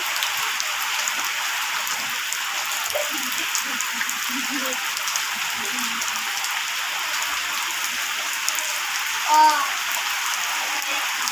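Rain falls in a steady, dense hiss at home, continuous and even throughout, with a brief small sound near the end and no clear speech.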